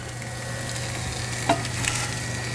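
Steady sizzle of sausage frying in a pan, with a couple of sharp scrapes at about 1.5 and 1.9 seconds as a spatula chops it into crumbles; continuous and close, no voices.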